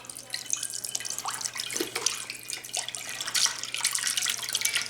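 Beef broth pouring into a slow cooker for a pot roast, a steady splashing trickle with gurgles and drips, close and fairly loud, with no talk.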